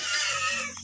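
A mother pig with seven newborn piglets gives a short, high squealing call, close and clear, fading toward the end.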